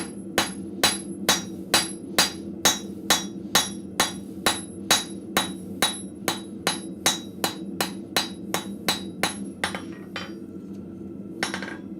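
Scrap metal is hammered on the edge of an anvil while forging an arrowhead bevel: a steady run of about two dozen sharp, ringing metallic strikes at a brisk, even rhythm, close and alone, slowing near the end.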